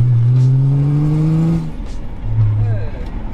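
A BMW 525tds E34 turbo diesel engine pulls hard under acceleration, its rising drone loud and close for about a second and a half before easing off, with a brief second surge later and voices talking over it.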